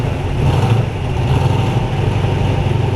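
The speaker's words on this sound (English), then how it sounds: "That's a cold start." A loud V8 engine in a 1934 Ford coupe hot rod runs rough and lumpy on a cold start, with a deep, pulsing rumble close by.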